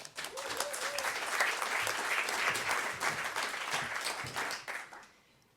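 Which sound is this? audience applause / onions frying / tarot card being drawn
audience applause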